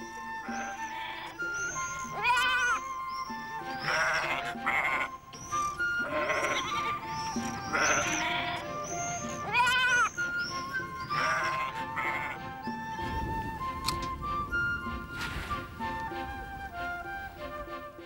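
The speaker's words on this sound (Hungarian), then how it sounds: "Közép-Európa legelői sok birkafajtát és más legelészű állatot táplálnak" Sheep on the Hortobágy pasture bleat repeatedly, several animals calling one after another in wavering cries, some close and some farther off, over a low outdoor background with no talk.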